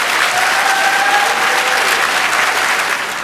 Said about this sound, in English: Let's give them all a round of applause and a welcome.